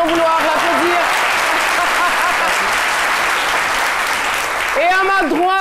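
Studio audience applause on a live midday television show, dense steady clapping filling the room, with a voice speaking briefly at the start and again near the end.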